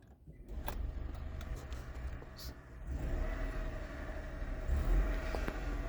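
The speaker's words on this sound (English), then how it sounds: "So I'll just turn the car on." A 2000 Honda Insight, a first-generation model, starts up with a quick whir and a faint click, then settles into a steady low engine hum. A voice is heard now and then over it.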